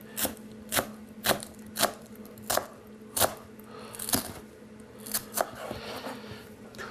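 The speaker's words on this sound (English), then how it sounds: "we're going to chop these up real finely cut" Shallots being finely chopped with a knife on a board, as a row of crisp, evenly spaced cutting taps, close and moderately quiet.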